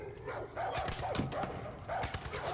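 A dog barks in the video game Far Cry 5, several sharp close barks in quick succession over game background noise, with no talk.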